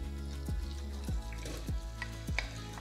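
Chopped onion sizzling in melted butter in a pan for a green asparagus risotto, a steady close frying hiss broken by about four soft stirring scrapes, with no talk.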